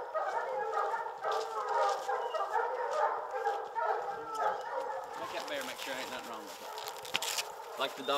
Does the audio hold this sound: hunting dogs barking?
yes